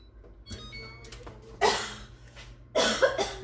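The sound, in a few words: coughing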